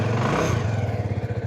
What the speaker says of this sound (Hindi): यस बाइक स्टार्ट हो गई, अच्छी बात है।